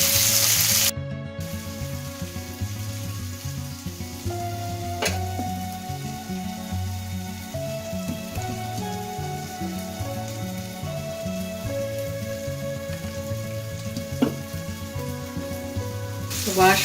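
Potato thokku masala sautés in a pan, giving a steady, close sizzle and crackle that runs the whole time beneath tonal background music.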